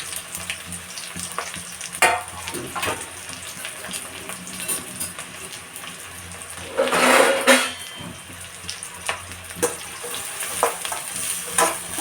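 Chopped onions and capsicum fry in a hot pan for chicken liver fry, giving a steady sizzle with scraping stirs. A louder burst of hissing comes midway as the vegetables are tossed.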